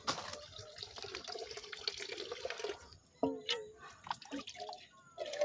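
Water is poured onto potted plants, first a continuous splashing stream, then a few scattered drips and splashes, fairly close and soft.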